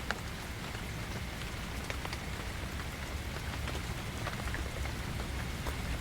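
Steady rain falls through a forest, a dense even wash of drops and patter with scattered louder hits, continuous and enveloping with no voices.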